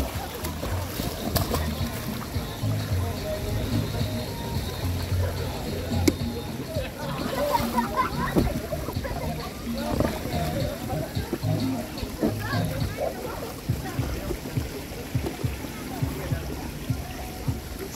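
Water sloshes and splashes continuously as people swim in a resort pool at Senegambia Beach Resort in Kololi, Gambia, with soft, irregular splashes close by and light ambient noise throughout.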